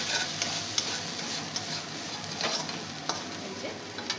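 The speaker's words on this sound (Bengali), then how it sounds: "এই সামান্য থেকেই আমি চালগুলো এবার ভেজে নেব" Rice grains frying in a small amount of leftover oil in a wok, cooked for khichuri, give a steady soft sizzle with occasional scrapes and stirs, near and continuous with no talking.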